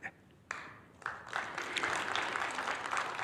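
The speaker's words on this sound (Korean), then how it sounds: "박수해 드립니다." Applause builds at a church opening worship service during a men's mission winter retreat, starting with a few scattered claps and swelling into steady clapping from a congregation.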